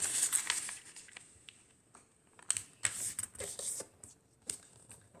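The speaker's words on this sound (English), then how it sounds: "Open it back up and fold it the other way" Origami paper being folded in half and sharply creased by hand, giving soft rustles and crisp crinkling bursts, close and fairly quiet, with short pauses between handling movements.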